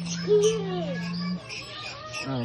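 Birds in an aviary give chirps and calls with rising and falling whistled notes, close and fairly loud, while people's voices sound alongside them.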